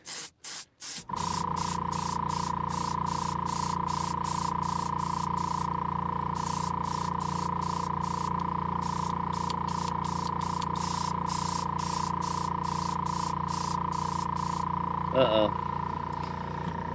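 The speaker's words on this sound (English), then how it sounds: "see that spittle, those drops? That's because there's dried paint in my nozzle here." Spray paint can hissing steadily from a nozzle clogged with dried paint, spitting drops; a few short bursts open the clip before one long continuous spray, loud and close.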